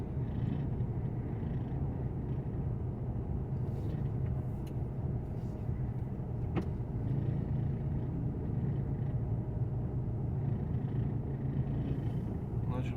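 A truck tractor unit drives downhill, its engine giving off a steady low rumble and drone that continues throughout with little change.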